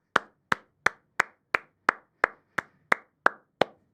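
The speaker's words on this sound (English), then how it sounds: "You gotta stop clapping, otherwise nobody can hear it." Eleven sharp, evenly spaced hand claps ring out one at a time, crisp and close, with a brief decay after each and no talking.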